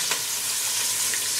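Sliced smoked sausage browning in a frying pan for turtle gumbo, sizzling and crackling steadily at close range with no voices.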